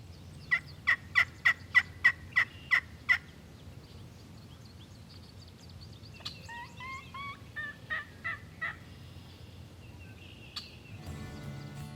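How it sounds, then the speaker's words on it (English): A wild turkey outdoors gives a run of about eight sharp, evenly spaced calls, then a series of quicker, warbling gobbles. The calls are clear but somewhat distant over a quiet background, with no talking. "you can call wild turkeys and mimic their calls"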